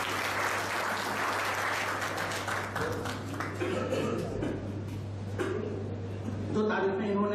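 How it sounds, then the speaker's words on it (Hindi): Audience at a library farewell function claps to welcome the librarian, moderate applause fading out as voices and shuffling take over, with a steady electrical hum underneath. "तालियों से उनका इस्तकबाल करें।"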